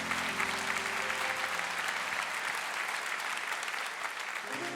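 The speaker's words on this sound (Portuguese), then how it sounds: "quer aplaudir, aplauda forte a Jesus" A church audience at a worship conference applauds strongly, a dense, even wash of clapping that lasts throughout with faint voices beneath.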